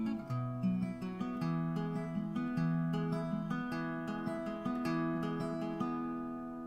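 Acoustic guitar works through a song intro in a cover arrangement at a slowed pace, with picked notes and chords ringing in a gentle, steady rhythm, close and unaccompanied.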